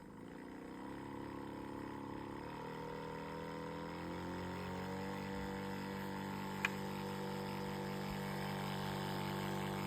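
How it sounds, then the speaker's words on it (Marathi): A motorized water pump drawing from water on a farm hums steadily at low volume, its engine tone rising slightly at first and then holding even, with one brief click midway. "आता पंप चालू करून घेऊ आपण"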